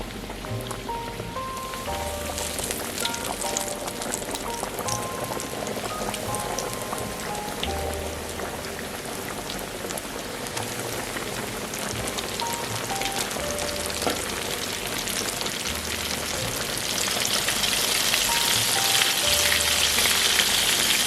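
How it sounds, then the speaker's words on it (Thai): KFC-style breaded chicken deep frying in hot oil over medium heat, producing a dense, rain-like crackling sizzle that grows louder toward the end, with soft background music underneath. "รอให้น้ำมันร้อนก่อนนะครับ แล้วก็ลงทอดครับ"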